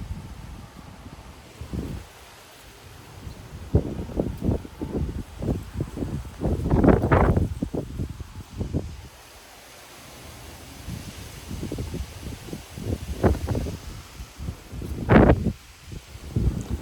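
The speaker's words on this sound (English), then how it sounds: "that had to be like a 30-mile-an-hour gust" Strong wind gusts of about 30 miles an hour sweep through a tree in a Frisco, Texas backyard, rising into loud rustling surges of leaves and microphone buffeting, then dropping to calm between gusts.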